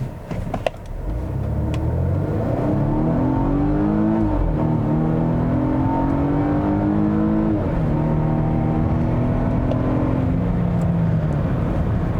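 A 2020 Volvo V60 Cross Country wagon accelerates hard, its engine note rising steadily through two gear changes in a loud, continuous rumble with no talking.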